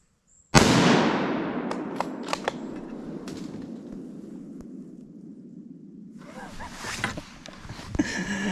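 .308 rifle fired at a whitetail deer on Florida public land: one loud, sharp close shot followed by a long decaying outdoor echo, then rustling movement and faint sounds.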